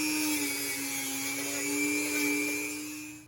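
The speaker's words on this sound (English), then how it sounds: "I just finished doing his back feet with the rotary drill" A rotary drill grinding a dog's toenails, a thin steady high-pitched whine with slight pitch wobble, fairly quiet and continuous, ending with a brief thump.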